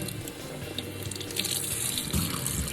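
Water runs steadily from a sink tap while the temperature is set, a continuous close hiss and splash that swells slightly toward the end.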